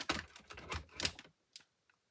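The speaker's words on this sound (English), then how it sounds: "I'm going to just trim that off just a tad." Paper is trimmed for a handmade fold card: a close, busy burst of crisp clicking and scraping cuts for about a second, then a couple of faint ticks follow in near silence.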